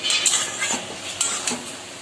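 Ash gourd greens cook in a pan with Kashmiri chilli powder and coriander powder, a metal spoon clinking and scraping against the pan over a light sizzle, close by and without speech.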